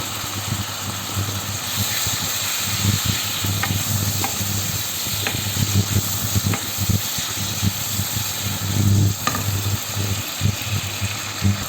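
Bolognese sauce sizzles in a pan while it is stirred, a loud, steady frying hiss with scraping and clinking from the utensil, and a constant low hum underneath.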